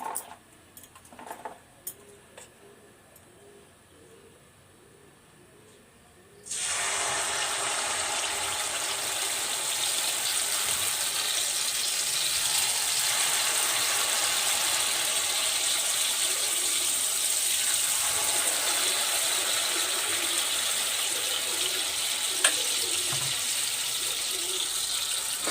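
Atta malpua batter frying in hot oil, a loud steady sizzle that starts abruptly partway through after quieter kitchen sounds and continues without pause.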